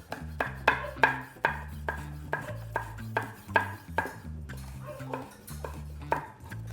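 A knife chops chili into long julienne strips on a board, a steady run of sharp, evenly spaced knocks close by, with faint tonal ringing between strokes and no talk.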